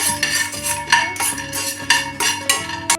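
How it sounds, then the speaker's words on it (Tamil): Handful of peanuts dry-roasting in a kadai on the stove, stirred so the nuts and spoon clatter and scrape against the metal pan in repeated close, bright bursts with no talking. "அடுப்பில் ஒரு கடாய் போட்டு ஒரு கைப்பிடி அளவுக்கு வேர்க்கடலை போட்டுக்கலாம் இதை நம்ம வறுத்து எடுத்துக்கணும்"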